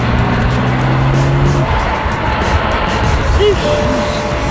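A BMW M4 convertible on a first drive with the top down in cold Chicago weather gives a loud, steady engine and road roar throughout, with a brief higher tonal whine early on and no clear talk over it.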